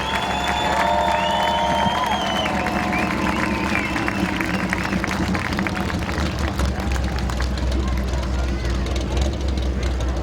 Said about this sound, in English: give these gentlemen a huge round of applause, these podium finishers